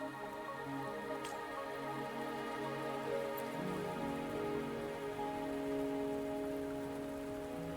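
Steady rain falls in the video game Wuthering Waves, a continuous even patter at moderate volume with sustained soft music tones underneath and no speech.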